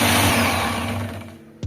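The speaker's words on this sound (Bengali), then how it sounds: "এইবার দেখো আমি দইটাকে ভালোভাবে ফেটিয়ে নেব ব্লেন্ডারের সাহায্যে।" A kitchen blender whisks yogurt with a loud, steady motor whir that gradually fades and winds down, followed by a short sharp clatter at the end.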